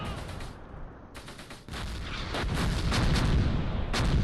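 Mortar fire in the WWII strategy game Close Combat Gateway to Caen, a quiet lull giving way to a building barrage of dense, rumbling blasts and crackling impacts.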